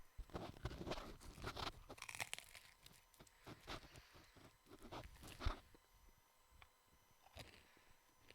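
Crunchy food is bitten and chewed up close at a quiet level, with a run of irregular crisp crunches, crinkling and rustling spread across the clip.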